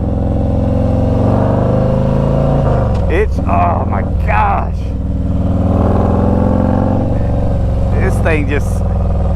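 A Harley-Davidson Street Glide Special FLHXS motorcycle engine braking with the throttle closed, a steady low rumble running throughout while someone talks over it.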